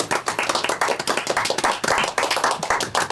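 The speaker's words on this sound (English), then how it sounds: "You gotta stop talking during the clapping" A small group claps steadily for several seconds, the dense rhythmic handclaps staying fairly close and loud with no talk over them.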